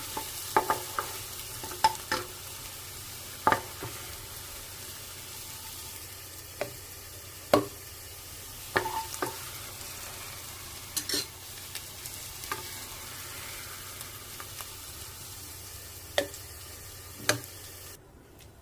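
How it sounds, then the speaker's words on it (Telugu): Soya chunks frying in a tablespoon of oil in a pan, with a steady low sizzle throughout and repeated sharp clicks and scrapes of stirring, no voices. "దాంట్లోకి చంక్స్ని వేసి కొంచెం కలర్ షేడ్ అయిన దాకా వేయించుకున్నాము."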